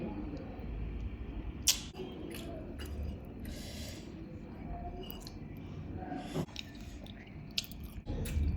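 Someone eating peeled prawns up close, soft wet chewing and biting with a few sharp clicks and squishes spread through the stretch, no voices.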